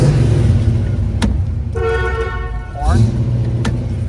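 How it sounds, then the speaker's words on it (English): A 1979 Pontiac Trans Am gives one short, loud blast of its horn, heard close up over a rough idle, with someone talking before and after. "Horn."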